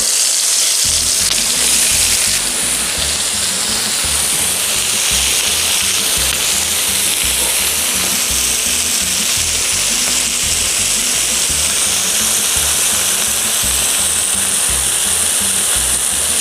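Peppers and onions sizzle loudly and steadily on a hot griddle beside marinated steak, a continuous close frying hiss with no talking.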